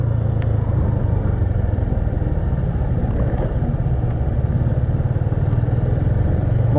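Motorcycle riding along a road, a steady, loud low engine drone that holds constant throughout, with faint clatter mixed in and no talk.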